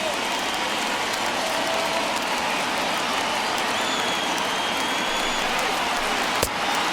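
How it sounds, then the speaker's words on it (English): A small but vocal baseball crowd at a World Series game between the Phillies and Rays rises and applauds, a dense, steady wash of clapping and cheering that holds throughout at a distance. "Now this small but vocal crowd come to their feet."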